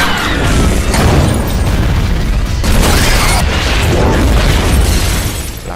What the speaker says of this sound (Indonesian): Alhasil, mobil itu meledak